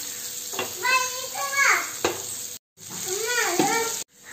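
Marinated fish frying in oil with curry leaves gives a steady crackling sizzle, with a voice talking over it throughout.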